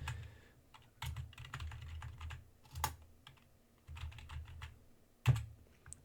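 Typing on a computer keyboard: bursts of soft, quick key clicks come and go over six seconds, with a few sharper single taps, close and alone without speech.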